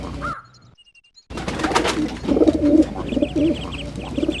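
A pair of pigeons coos near a tree, repeated soft throaty calls in a steady rhythm, with a brief chirp and a short silence before the cooing begins.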